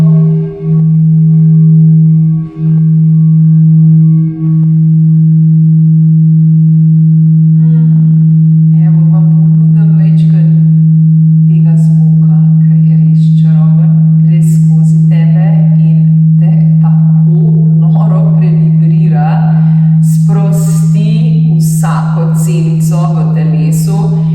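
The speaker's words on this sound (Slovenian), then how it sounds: "jaz s vami igram na tole lepo bowlo ali pa kristalko" A sustained, pure ringing tone from a crystal singing bowl hums steadily throughout, with a soft voice speaking Slovenian over it in the second half.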